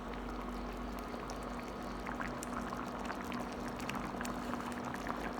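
Steady bubbling and rolling of boiling water in a pot, a continuous churning hiss at a quiet, even level with no voices.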